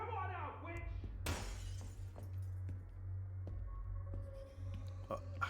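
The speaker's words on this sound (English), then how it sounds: "Someone smashed the window." A window smashed in the horror game Silent Hill Ascension, one loud sudden shatter of breaking glass followed by scattered tinkling shards over a low steady hum.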